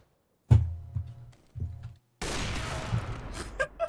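Gunshots in CS:GO: three punchy close reports spaced about half a second apart, then a denser burst of gunfire with metallic clatter near the end.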